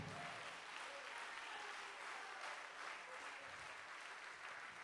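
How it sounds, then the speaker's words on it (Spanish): A church congregation applauding during a Spanish-language sermon, a continuous, faint and distant patter of many hands with no talk over it. "Dele un aplauso al Señor, hermano."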